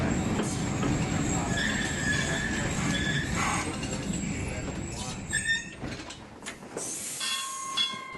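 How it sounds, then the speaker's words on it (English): Railway car 4001 running on rails out to Gum Grove, a close rolling rumble with rhythmic wheel clatter, then high wheel squeals and hissing toward the end. "We're taking the 4001 back out to Gum Grove."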